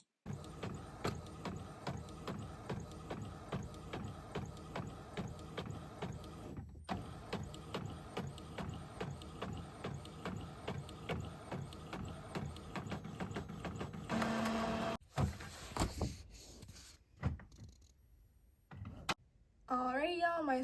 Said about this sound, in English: And now we just print it and send it over to our printer.